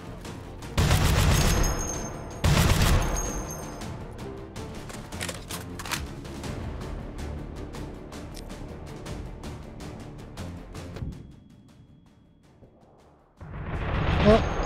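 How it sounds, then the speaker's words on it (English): Gunfire in the VR shooter Hot Dogs, Horseshoes & Hand Grenades: two loud, close bursts of shots early, then a long ringing decay and quieter rattle, and one more burst at the very end. "Shoot through the wall. Shoot through the cover."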